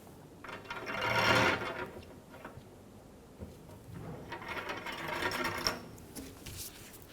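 An 8mm wrench or mast tool turns the antenna mast loose on a 2005-2015 Toyota Tacoma, a faint close scraping and grinding in two drawn-out bursts with light clicks in between.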